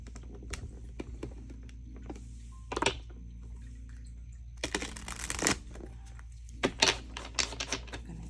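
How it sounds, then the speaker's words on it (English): Tarot cards being shuffled by hand in quick, crisp riffling bursts, with a few short flurries separated by pauses and light clicks, close and fairly quiet with no talking. "I'm just gonna shuffle super quick."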